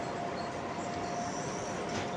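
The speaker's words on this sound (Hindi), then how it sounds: "और ये है रेल की पटरी, धीरे धीरे जा रहे हैं अभी स्टेशन पे।" Train rolling slowly along the rail track into Sarkhej station in Ahmedabad, a steady, continuous low rumble with faint squeal, heard from close by with no one talking.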